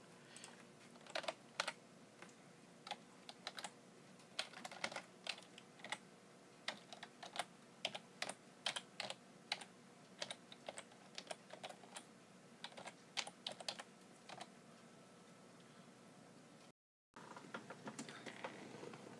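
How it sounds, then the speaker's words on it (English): Rapid typing on a computer keyboard, a steady run of crisp key clicks with brief pauses, fairly quiet and close, then a short dropout before a few more keystrokes; no one talks. "Here, I'll just type it out."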